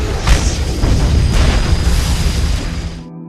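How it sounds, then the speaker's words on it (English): A van explodes after colliding with a train in a film scene, a loud, dense roaring blast with rumbling low end and debris noise, sustained for about three seconds before cutting off. "Kim quickly passes the train, which leads to the collision of the van with the train and its explosion and overturning."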